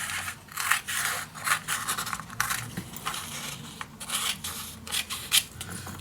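Scissors cutting through designed paper for a magic box card, with steady rhythmic snips and rustling close up, fairly quiet.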